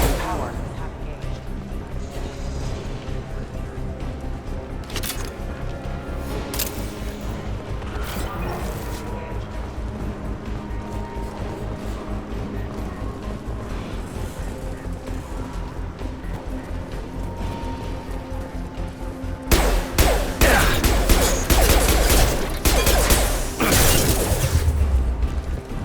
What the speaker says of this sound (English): There's some more shooting up ahead.